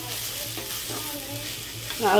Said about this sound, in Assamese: এইফালে চাটনি বনোৱাৰ কাৰণে শাকখিনি মানে পাতখিনি ভাজি আছোঁ